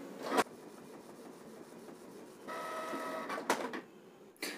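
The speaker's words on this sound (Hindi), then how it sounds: "आप देख सकते हैं कि प्रिंटर से प्रिंट होना शुरू हो गया है।" A Canon Pixma G3060 all-in-one printer runs a page, with a steady mechanical whir and feed hum punctuated by sharp clicks and clacks from the paper mechanism, heard close with no talking.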